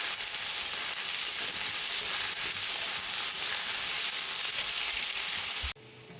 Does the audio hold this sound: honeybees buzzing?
no